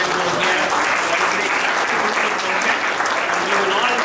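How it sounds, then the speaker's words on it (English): An audience at the close of an event breaks into loud, sustained applause, a dense, even clatter of many hands filling the whole stretch. "once again, a round of applause"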